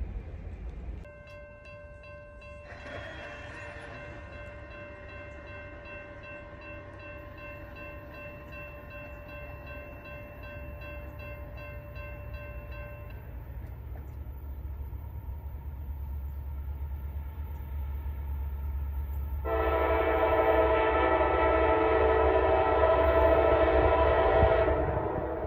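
A northbound CSX freight train passes at Moody Town: a steady low rumble of locomotives and rolling cars throughout, with a sustained horn blast early on and louder, brighter wheel and car noise building near the end.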